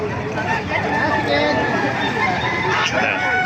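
Chickens and roosters on a Filipino farm, with clucking and crowing calls scattered through a steady background, while people talk nearby.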